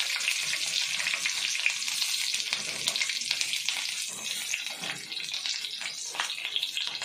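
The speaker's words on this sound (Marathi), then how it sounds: "मी ते मिरच्या भरेस्तोवर तेल गरम करत ठेवलंय. आता ह्या आपण मिरच्या त्यात एक एक करून ठेवून घेणार आहे." Stuffed green chillies being set one by one into hot oil for bharli mirchi, giving a dense, continuous crackling sizzle with bursts of spitting, close and fairly loud, with no voices.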